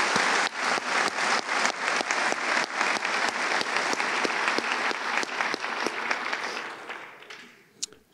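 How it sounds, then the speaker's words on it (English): Audience applause at a high school senior awards night, a strong steady wash of clapping that carries on evenly for several seconds before fading out near the end. "so a big round of applause to everyone who contributed."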